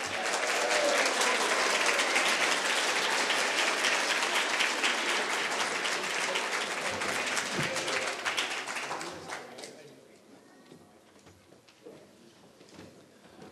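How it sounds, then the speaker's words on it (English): An audience at a regional community media video festival applauds loudly and steadily for several seconds for the winners, then the clapping thins out and fades to scattered claps. "Let's give one big final round of applause to all the winners."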